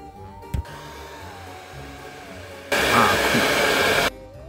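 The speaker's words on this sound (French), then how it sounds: "donc je vais repasser un coup de sèche-cheveux." A hair dryer blows steadily for about one and a half seconds over latex makeup, loud and close. It then shuts off, after a quieter stretch with a faint tone and a brief thump.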